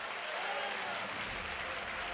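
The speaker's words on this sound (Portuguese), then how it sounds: "Bata palmas e dá glória" Church congregation clapping hands during a worship service, a dense steady wash of applause at moderate distance with voices mingled in.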